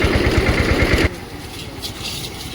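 A tractor engine with a mounted water sprayer, washing temple grounds, throbs loudly and steadily, then suddenly drops to a quieter running hum.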